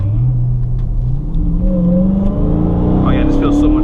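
A lowered 2020 Dodge Charger Hellcat Widebody set to 500 horsepower mode, its engine loud and close as it accelerates hard in one continuous rising pull, with a person talking over it.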